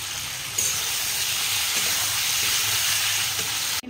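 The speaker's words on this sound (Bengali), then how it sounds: "এবার আমি এখানে পটল, আলু আর চিংড়ি মাছ সেটা দিয়ে দেবো একসাথে, আর একটু ভালো করে কষিয়ে তারপর জল দেবো।" Pointed gourd, potato and prawns fry in hot spiced oil, giving a loud, dense, steady sizzle heard up close. It swells slightly after a moment and then cuts off abruptly.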